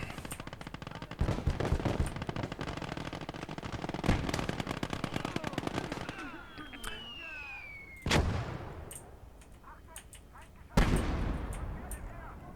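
Gunfire in the WWII strategy game Call To Arms: Gates of Hell, with dense rapid machine-gun bursts, sharp single shots and loud blasts filling most of the stretch, a brief whistling projectile in the middle.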